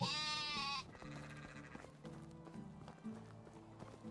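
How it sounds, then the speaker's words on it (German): A ram (male sheep) bleats in Medieval Dynasty, one loud, sustained wavering bleat up close lasting under a second, followed by game ambience and soft clip-clop-like tapping. "Ein Schafbock."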